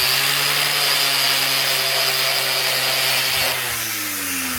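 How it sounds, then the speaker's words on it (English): A loud, steady whine of an angle grinder disc stripping metal on a car's front end, close and continuous, its pitch dropping slightly near the end. "So here we have our disc on our grinder"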